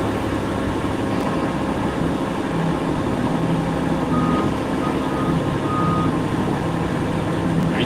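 A truck reversing nearby sounds steady, regularly spaced beeps over a loud continuous engine rumble and broad road noise.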